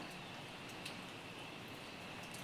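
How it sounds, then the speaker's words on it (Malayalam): Light rain outside a house patters in a soft, even hiss, faint and steady, with no voices. "ഇപ്പോൾ ചെറുതായിട്ട് മഴയൊക്കെ തീരാൻ തുടങ്ങിയേ."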